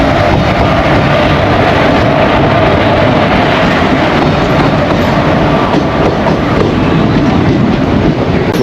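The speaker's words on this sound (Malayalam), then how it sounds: "ഞങ്ങൾക്ക് പോകേണ്ട Ernad express Kanhangad platform number 1 എത്തിച്ചേരുകയാണ്" The Ernad Express arrives at platform 1 of Kanhangad station. It makes a loud, continuous rumble close by, with wheel clatter and wind buffeting throughout.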